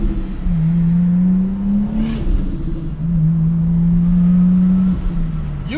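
A Toyota Supra engine drones steadily while driving, its low note rising and falling with throttle in two long revving swells, loud and close with no talking.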